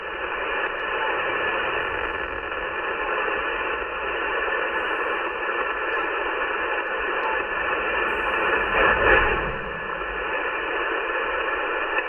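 Band noise hisses from a Yaesu FT710 radio receiver tuned to an open amateur band, a steady dense static wash with slight swells and a brief louder surge near the end, no talking.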